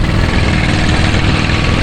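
A boat engine runs steadily during work on a bangka, a loud, continuous low drone with no pauses or voices.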